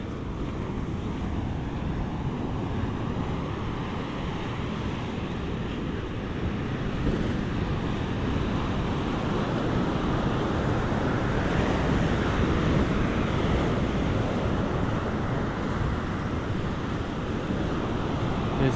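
Surf surges and breaks continuously among the rocks at Glentana Caves, a dense, loud wash of ocean waves with wind rumble on the microphone and no voices.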